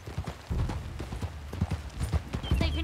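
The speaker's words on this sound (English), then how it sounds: "Okay, get on your horse." Horse hooves clip-clopping at a steady walking rhythm in Red Dead Redemption 2, close and moderately loud over faint background.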